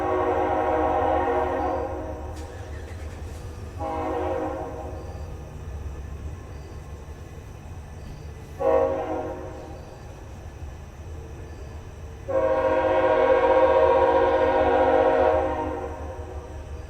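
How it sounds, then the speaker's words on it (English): A train rumbles steadily past while its horn sounds several times, short blasts and then a long loud one, with no talking. "This is a good train."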